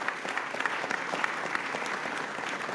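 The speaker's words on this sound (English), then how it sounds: "Can you give these fine folks a huge round of applause?" A large conference audience at a Bitcoin brainstorm panel bursts into dense, sustained applause, a steady wash of many hands clapping at even loudness throughout.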